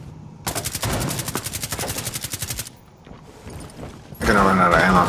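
Rapid automatic gunfire in Rainbow Six Siege: a long, evenly pulsing burst fires close and loud and then stops, a quieter stretch follows, and a second loud burst starts near the end.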